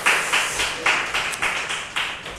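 A church congregation at a Sunday worship service claps in welcome, a loud group clap in steady rhythmic bursts about every quarter second, close and unaccompanied by talk.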